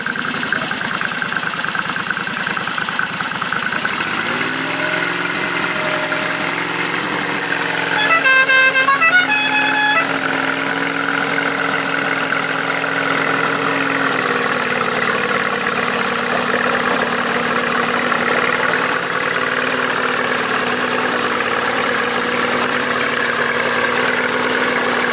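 A John Deere 214 garden tractor engine idles steadily and loudly up close with a low, even drone, before it pulls a van and trailer; a short sharp burst breaks in partway through.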